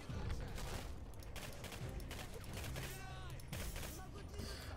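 Gunfire in the video game Singularity, rapid bursts of shots crackling over a busy game soundtrack, with a voice talking over the action.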